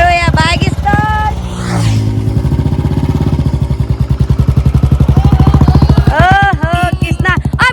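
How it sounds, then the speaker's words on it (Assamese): A motorbike engine catches and runs with a close, pulsing throb on a bypass road, steady for several seconds before easing, while people talk over the opening and closing moments. "আৰু এয়া বাইক ষ্টাৰ্ট"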